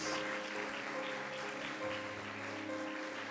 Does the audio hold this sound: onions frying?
no